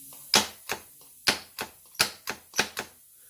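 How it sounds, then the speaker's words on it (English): Sharp mechanical clicks of a foot-pedal-triggered solenoid air valve on a DIY vapor blaster, about nine snappy actuations in an uneven rhythm, close and distinct against a quiet background. "It seems that the solenoid's working fine."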